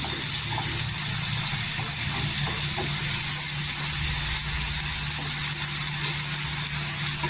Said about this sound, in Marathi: तिथे कट केलेला कांदा टाकायचा एक ते दोन कांदे आहेत केल्यावर छान असं सॉफ्ट करून घ्यायचं